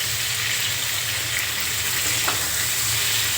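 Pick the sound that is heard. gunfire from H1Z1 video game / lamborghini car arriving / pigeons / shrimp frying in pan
shrimp frying in pan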